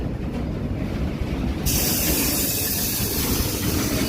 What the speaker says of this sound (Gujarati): આ આપાનું રેલવે સ્ટેશન છે આ આપણી ગાડી છે